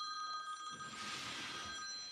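An incoming call sets a phone ringing, a bright electronic ring tone sounding steadily at moderate volume in a quiet room, with a brief swell of noise midway.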